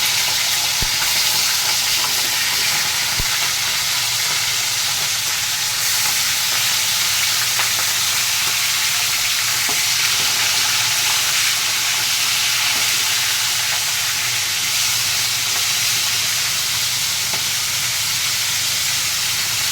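Hilsa fish heads frying in hot oil with cumin give a loud, steady, close sizzle and hiss that never lets up, with occasional faint crackles and no talking.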